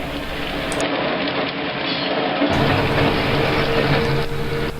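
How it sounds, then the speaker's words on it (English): A freight train picks up speed as it passes a railway tower near a salvage yard, a loud steady rumble and rushing roar of rolling cars that swells slightly as it goes by. "The train picks up speed as it goes by WM Tower"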